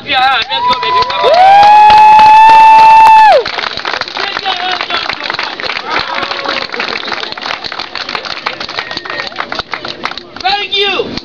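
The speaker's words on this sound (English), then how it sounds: "Clap your hands." A street crowd in Venice claps and cheers for a street performer. A long high shout or whoop rings out first, then dense, fast, continuous clapping and crowd noise follow, loud and close.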